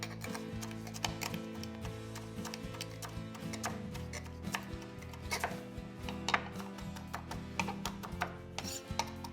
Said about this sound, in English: Just want to chop up a little bit of parsley.